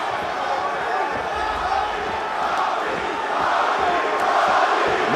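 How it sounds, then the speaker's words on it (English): Arena crowd at an MMA fight between Colby Covington and Robbie Lawler, roaring and cheering in a continuous loud wash that swells toward the end, with a commentator talking over it. "No surprise, it is a pro-Lawler crowd tonight."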